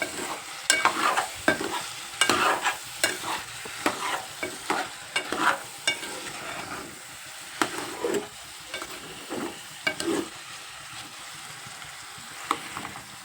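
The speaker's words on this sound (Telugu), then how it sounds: "ఇలా వేగాలి ముక్క" Bitter gourd pieces fry in a pan under a constant soft sizzle while a spatula stirs them in a busy, irregular rhythm of close scraping and clacking strokes.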